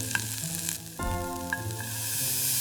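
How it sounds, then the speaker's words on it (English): Loud, steady sizzling of bacon frying in a hot skillet, crackling continuously with occasional pops and a bright hissing texture. "as the bacon hits the pan, you can see the fat starting to render immediately, creating that lovely sizzle"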